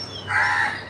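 One crow gives a short, loud caw nearby in the morning outside a house, with steady low background noise and no speech.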